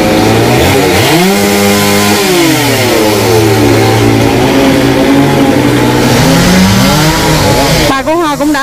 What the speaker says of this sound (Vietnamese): đang cưa mấy cái lóng cây ra nhỏ nhỏ ra